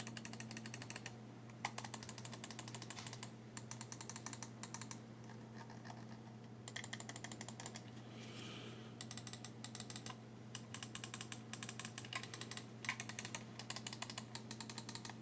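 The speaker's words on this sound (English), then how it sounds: "Here's a quick sample of what the switches sound like" Quiet, rapid clicking of computer mouse switches, in repeated bursts with short pauses, close up against a low steady hum.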